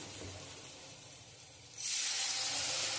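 Water poured into a hot pan of spices fried with turmeric, chili powder and salt bursts into a loud steady hiss that follows a quieter stretch of soft sizzling.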